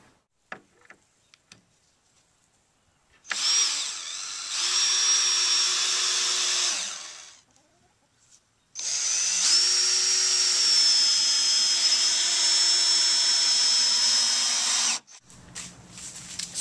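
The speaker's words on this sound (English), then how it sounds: "we'll fasten the sides to the bottom, screwing them in through the bottom" A power drill drives screws through the bottom into the sides of a wooden gravel bed for an aquaponic system: two long, loud whirring bursts, separated by a short quiet gap, with faint clicks before them.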